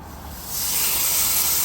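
A loud, steady hiss of flank steak sizzling on a hot grill swells up after a quiet moment and holds, close by, with no talking.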